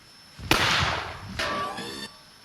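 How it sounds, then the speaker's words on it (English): A long sniper-type rifle fires in an audio story, a sharp blast with a hissing burst, then a second whooshing boom with a ringing tail, loud and close. "The projectile left a trail of smoke like a firework and knocked Scarsteel away with the blast"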